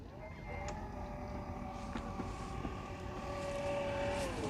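A power liftgate on a 2022 GMC Yukon Denali XL opens with a steady electric motor whine that holds for several seconds and ends with a soft stop, heard alone at moderate level without talk.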